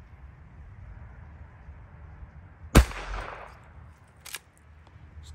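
A single sharp report from a .22 birdshot smoothbore garden gun fired outdoors at flies, with a short decaying tail and a fainter impact-like click about a second and a half later.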